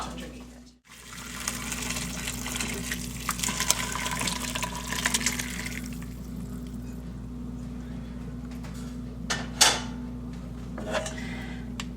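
Chicken soup pours through a strainer into a pot underneath, a continuous liquid splash and trickle under a steady kitchen hum, ending with a few clinks and drips.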